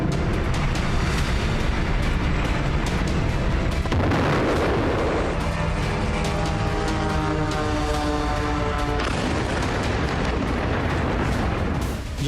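Loud explosions in Russia's Samara region after a night-time FP5 Flamingo missile strike on a rocket plant: heavy rumbling blasts and crackling bursts follow one another with little pause, close and harsh throughout.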